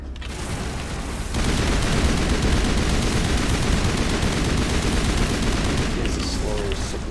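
Turret gunfire in the video game Mass Effect 1, a dense, steady barrage of rapid shots that kicks in after a quieter opening and keeps up loudly and without letup until near the end.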